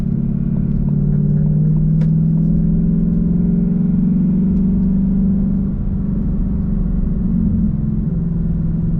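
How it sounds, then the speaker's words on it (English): A 2015-2023 Ford Mustang GT engine drones steadily through a downshift, a loud, deep rumble heard from inside that shifts slightly in pitch partway through, with no talking. "So let's try a downshift."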